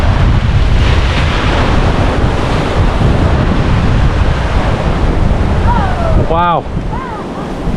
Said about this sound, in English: Wow, look at how rough the sea is there.